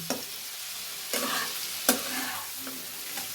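Vegetables for a paneer navratan curry stirred and fried in a pan, with a steady sizzle and a few sharp scraping stirs of the spoon, close and fairly quiet, no talking.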